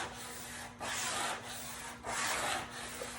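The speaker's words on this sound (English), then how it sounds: "I actually also give it a good back rub all the way up and down" Hand rubbing firmly over mounted pastel paper to press it down, giving two long, soft, swishing strokes of friction over a quiet background with a faint steady hum.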